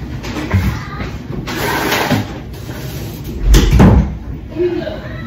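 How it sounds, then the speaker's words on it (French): Indoors, a door is pushed shut with a muffled thud and brief rattle amid light household shuffling, fairly close. "Je vais fermer la porte."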